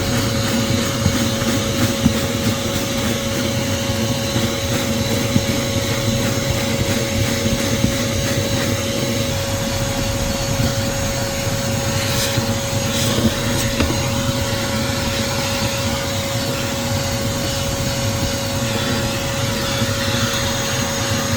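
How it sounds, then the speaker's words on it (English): A Harbor Freight Bauer 3-gallon shop vacuum drones steadily and loudly throughout, a constant high whine with a low rumble and no talking. "Honestly, this vacuum is a really good vacuum"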